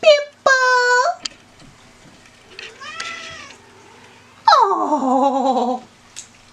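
A cat meows loudly and close by in two drawn-out calls, the first near the start and a longer falling one toward the end, with a faint mew and soft rustling in between.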